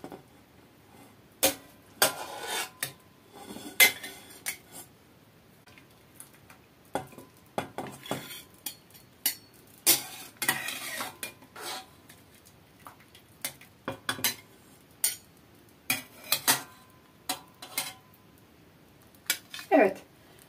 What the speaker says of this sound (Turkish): Hemen tavamıza çıkaracağız soğanlarımızı.